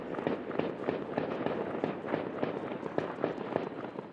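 Rapid bursts of gunfire crackle through a city during unrest, a dense string of sharp reports at uneven intervals, moderately distant and echoing.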